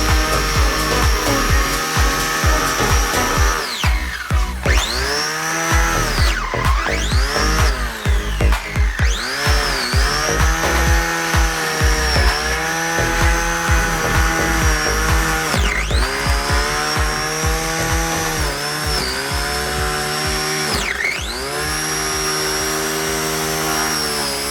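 An electric mower fitted with a trimmer head cuts grass with a loud, steady whine that dips and rises repeatedly as it bogs down in the grass and recovers, heard alone with no talking.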